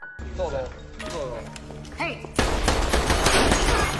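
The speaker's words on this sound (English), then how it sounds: "she shoots the other thugs as they're eating" Gunfire from the 2014 film Lucy, heard as a burst of loud shots that erupts in the latter half after tense music and sound effects, with a voice heard at times.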